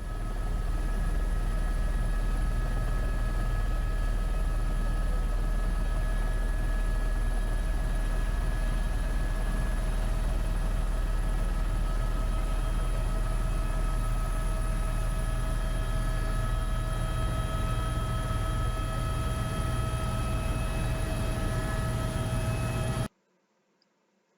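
A sightseeing aircraft circles over Waikiki on Oahu, its steady engine drone loud and constant throughout before cutting off abruptly at the very end.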